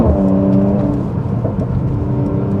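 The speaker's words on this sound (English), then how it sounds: "Oh, just listen to that exhaust," A 400 hp Mercedes C43 AMG exhaust growls loudly under acceleration, with a deep throaty rumble and rising engine harmonics heard from inside the car, dense and continuous, with no talking.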